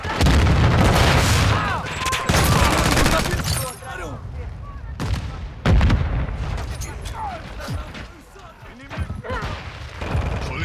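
Grenade blasts and rapid gunfire from a Call of Duty MWII multiplayer match on the Shipment map: loud, close booms and crackling shots pile up almost nonstop, easing briefly midway, with voices speaking underneath.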